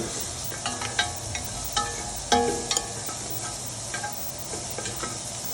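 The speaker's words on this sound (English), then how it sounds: "throw our onion in there. Just kind of swirl it around a little bit" Onion stirred around in a Magnolite pot for gumbo, giving a soft sizzle broken by several distinct metallic scrapes and clinks, the loudest near the middle.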